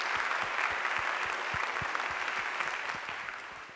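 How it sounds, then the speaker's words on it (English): An indoor audience at a Singapore Ceylon Tamils Association centenary event applauds a guest speaker, a sustained wash of clapping from many hands that fades slightly toward the end. "Let us give him a round of applause."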